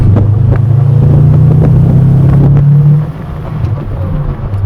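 A Subaru WRX STI flat engine drones loudly with a steady low hum that rises slightly, then drops off abruptly and settles to a quieter rumble.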